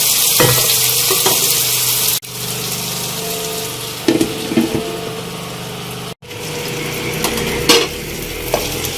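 Onions and tomatoes for chana daal simmer in a pan over a low flame, a steady close sizzle and bubbling interrupted by brief stirring clatters and pauses.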